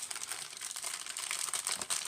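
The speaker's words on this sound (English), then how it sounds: "helping me put these into plastic bags, baggies" Plastic sandwich baggies crinkle and rustle close by as Halloween resin molds are packed into them, a continuous soft crackling with small irregular bursts and no talking.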